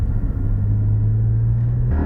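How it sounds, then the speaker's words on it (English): A 2020 Porsche 718 Cayman GT4 launches for a 0 to 60 run, its engine a loud, steady low drone close to the listener that steps abruptly in pitch near the end, with no talk over it. "Now we want to do a 0 to 60 time and a quarter mile time."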